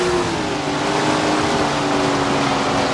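Several engines in a dirt-track sprint car race from a PC racing game, a dense, steady roar with sustained tonal whine, loud and continuous throughout with no talk.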